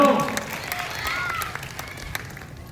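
Audience clapping at an award event in Bhagalpur, starting as a burst and thinning into scattered claps that fade over a couple of seconds.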